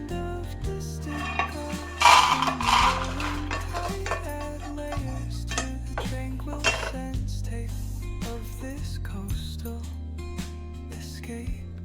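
Roasted peanuts being tipped from a pan into a bowl make a close clatter of nuts and metal clinks, with a burst of rattling early on and lighter scraping taps afterward over a low hum.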